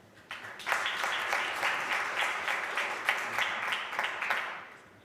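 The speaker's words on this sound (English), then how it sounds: "Another round of applause to the Governor." A roomful of people at a bank's annual report launch applauds the Governor, a steady wash of clapping that swells quickly, holds for several seconds and fades out, with no talking.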